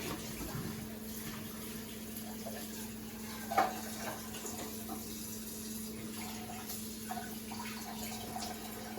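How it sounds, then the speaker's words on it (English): Water runs steadily from a tap over boiled eggs with a constant hiss, a brief clunk partway through, and no talking. "Running them under cold water."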